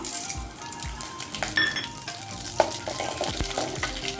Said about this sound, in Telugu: ఆయిల్ వేడైందండి తాలింపు గింజలు వేసుకుందాం